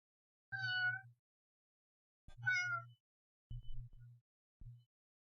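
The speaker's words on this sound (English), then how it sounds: "once again the cat has come in here" A house cat meows four times indoors, close and fairly loud, with short harmonic calls separated by pauses.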